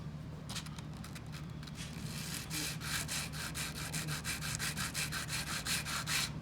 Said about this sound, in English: Give it a little, just a light sanding.